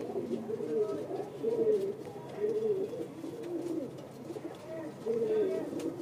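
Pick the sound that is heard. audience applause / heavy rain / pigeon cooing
pigeon cooing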